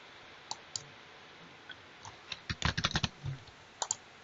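Keys tapped on a computer keyboard while entering numeric values into storm data software: a few scattered single clicks, then a quick cluster of several close, crisp keystrokes, and a final pair near the end, quiet and without speech.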